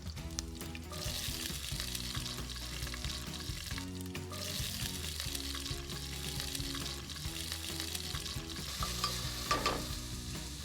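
Thinly sliced onion frying in hot oil with curry leaves for a Sri Lankan curry, a loud steady sizzle with stirring scrapes close by over a low background hum, and no talking.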